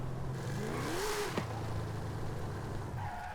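A front-wheel-drive car with 2,000 Nm of torque in Forza Horizon 5, its engine revving up in a rising whine, dropping sharply at a gear change, then droning steadily on, loud and close.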